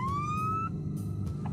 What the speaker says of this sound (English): A SAR vehicle will drive the road leading to Whitewater Winter Resort, periodically stopping to blare their sirens and call out